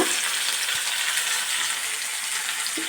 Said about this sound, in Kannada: ಫ್ರೈ ಮಾಡ್ಕೊಬೇಕು ಒಂದು ಸ್ವಲ್ಪ ಹೊತ್ತು. ಈಗ ಕ್ಯಾಪ್ಸಿಕಮ್ ಹಾಕ್ಕೊಂಡಿದ್ದೀನಿ